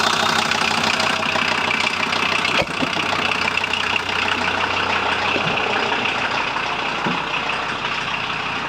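A 1994 VW Transporter T4 engine runs steadily at idle up close, with a rough, crackly texture from slightly advanced timing and a few sharp knocks over the constant mechanical roar.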